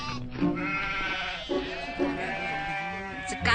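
A cartoon goat bleats in a series of wavering, nasal cries, loud and close, rising and falling several times in a row, with a short burst of sound at the end.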